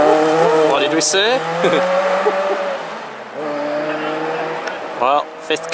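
Rally car spinning on a gravel forest stage at Wass Forest, engine note rising and falling with tyres skidding and scrabbling over a few seconds, while a spectator talks over it.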